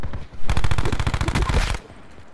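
Gunfire in the video game Blackout on the Alcatraz map: one loud, close, rapid automatic burst lasting just over a second, then a quiet tail.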